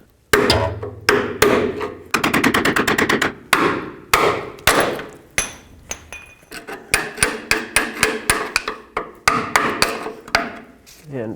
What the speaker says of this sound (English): I'm just gonna pop that out with a pry bar and a hammer.